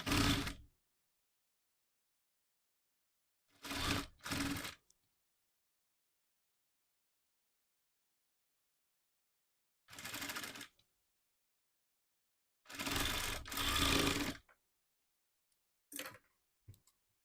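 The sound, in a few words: sewing machine stitching cloth sleeves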